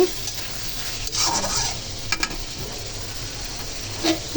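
Potatoes with spices fry in a pan, a close, even sizzle broken by a few scraping stirs and light utensil taps against the metal, no voices.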